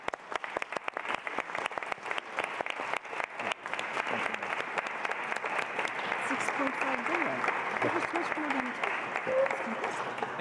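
Sustained applause from a conference audience honouring Ukrainian heroes, a steady wash of clapping that thickens and holds loud throughout, with faint voices mixed in.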